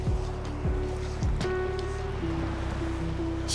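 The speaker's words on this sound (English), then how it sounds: "Still have some waves rolling in." Ocean waves roll steadily onto the shore at high tide, a continuous wash of surf with a low rumble, joined by faint tonal hums and a few brief sweeping tones in the background.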